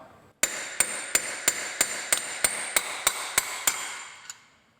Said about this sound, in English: If you don't have an air chisel to do this, you might try using a punch and a hammer.